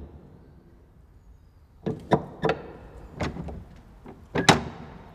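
Door latches and hinges recorded as sound effects in Scotland: after a quiet moment, a quick run of sharp latch clicks, clunks and short squeaks comes close and crisp, with no speech.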